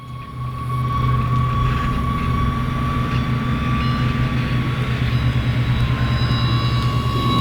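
E-flite UMX A-10 Warthog RC jet with 28mm EDF fans, a steady scratchy whine with a droning hum beneath, holding level and close throughout with no voices.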